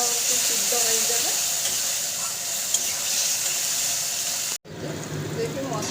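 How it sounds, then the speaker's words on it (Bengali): Spice paste and mango pieces fry in oil in a pan for a Bengali bhindi dish, giving a loud, steady, close sizzle and hiss that cuts out briefly near the end before resuming. "আমি ভেজে দেবো ভালো করে, মশলাটাও ভাজা হবে, আমটাও একটু সিদ্ধ হয়ে যাবে।"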